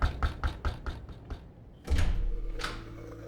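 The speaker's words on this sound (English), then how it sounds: "I knocked on the door" A run of about seven quick knocks on a door, fairly close and moderately loud, followed by a duller thump and lingering room noise.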